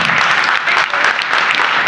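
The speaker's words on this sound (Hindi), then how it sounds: "जोरदार तालियों से स्वागत बीच में है।" An audience at a ceremony gives loud, sustained applause to welcome guests, a dense and steady wash of many hands clapping at close range without a break.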